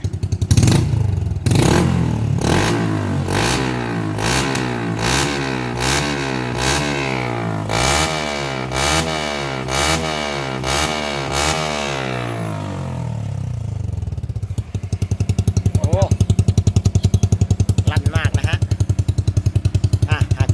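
A motorcycle fitted with a Game Racing exhaust pipe revs hard and repeatedly, each sharp blip rising and falling in quick succession, loud and close, before settling into a rough, lumpy idle.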